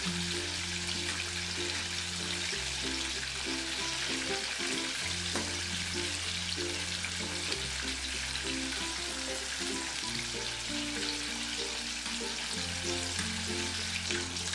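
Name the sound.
spicy broasted chicken deep frying in oil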